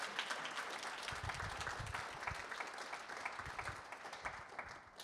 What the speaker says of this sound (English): Felsenthal a big round of applause?